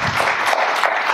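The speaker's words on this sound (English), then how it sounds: "Let's give her a big round of applause." Brief burst of audience applause at a literary event in Hyderabad, a dense, fairly loud wash of clapping hands with no pauses.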